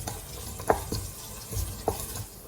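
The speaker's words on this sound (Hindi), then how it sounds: "प्याज को भी भून लेंगे कुछ 1 से 2 मिनट के लिए" Chopped onions frying for masoor dal tadka while a spoon stirs them in the pan: soft steady sizzle with a few quiet scrapes, faint and close.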